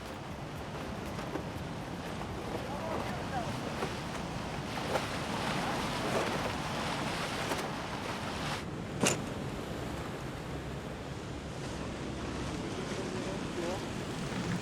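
Steady wind and ocean surf rolling on at Delray Beach, Florida, a broad continuous wash of noise with occasional gusts buffeting the microphone and a sharp knock around the middle.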